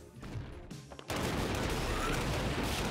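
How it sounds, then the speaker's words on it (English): Assault rifle burst fire in ScourgeBringer, with a few quieter shots at the start, then a sudden jump into a loud, dense and continuous wash of gunfire and noisy impacts that holds steady to the end, no talk. "I see, it's burst fire."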